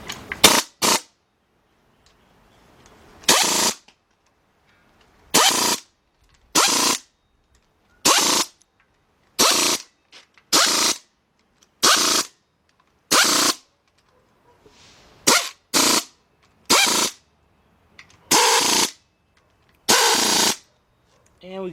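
A 13 mm deep socket on a 4-inch 3/8-drive extension tightens engine cover bolts on a 2003 Jeep Liberty Sport 3.7, in a dozen or so short, loud bursts of power-driver whirring separated by pauses.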